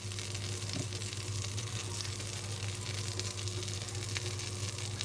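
Butter sizzles and crackles steadily in a pan on medium heat for an egg breakfast sandwich, a close, even hiss with no talk over it.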